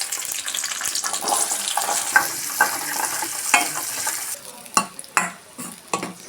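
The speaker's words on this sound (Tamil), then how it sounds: "காய் வதக்கி போடணும்" Vegetables sauté in a pan for Tirunelveli sodhi: a loud, steady sizzle with frequent scraping stirs, thinning into separate clattering strokes toward the end.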